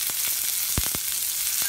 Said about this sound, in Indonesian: gue udah manasin si nasi goreng Tiarbah ini